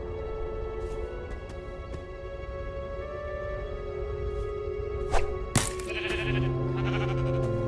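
Sheep in Minecraft: Story Mode bleat in a few short, clear calls over a steady game soundtrack drone, with one louder bleat standing out near the end.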